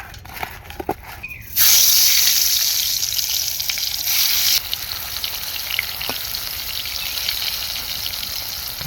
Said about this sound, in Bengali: তো আমাদের বেগুন ভাজা হয়ে গেছে, এগুলো আমরা তুলে নিচ্ছি।